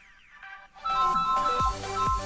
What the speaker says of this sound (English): Oh no, my phone is going off.